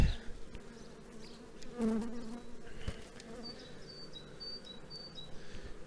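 Honey bees buzz around an opened hive frame holding capped brood and young bees, a dense close swarm hum with individual bees droning past and small clicks of handling.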